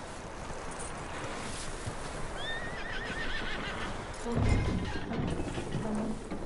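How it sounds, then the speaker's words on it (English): A horse in the video game Red Dead whinnies in a rising, wavering call amid windy outdoor noise, followed by a few hoof clops and low rumbles. "That looks like a decent horse."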